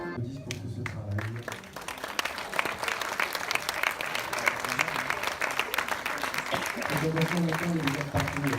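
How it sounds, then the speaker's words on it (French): An audience applauds a film crew, steady clapping that builds and holds across the clip, with voices talking over the beginning and end. "Applaudissements pour tout ce travail."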